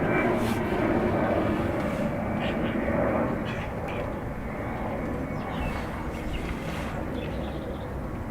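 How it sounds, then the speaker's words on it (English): Icelandair Airbus A321neo arriving at Dublin Airport on a rainy morning, a steady rushing jet roar that eases slightly partway through, with faint chirps of birds over it. "brand new Icelandair 321 Neo next"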